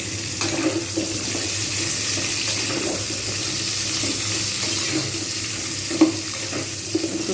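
Pointed gourd (potol) frying under a lid over medium heat gives a steady, hissing wash of sizzle with a few faint knocks, continuous and moderately loud, no talking.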